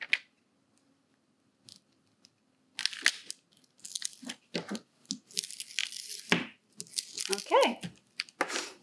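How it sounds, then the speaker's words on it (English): A polyester plastic dust jacket crinkles and crackles close by in irregular bursts as it is handled. The sounds are sparse at first, then become denser and busier. "It's normal if the plastic does a weird sound."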